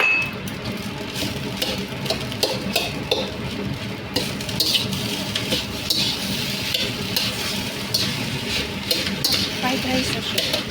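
Fried rice with dried tofu and egg being stirred and mixed in a hot frying pan, a utensil repeatedly scraping and clinking against the metal over a continuous soft sizzle, close and busy, with occasional speech.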